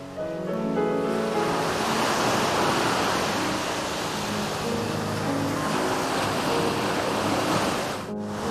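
Surf and sea breeze at Kamaya beach in Akita, a steady broad wash of waves and wind rushing without pause, loud and close, with a brief buffet near the end.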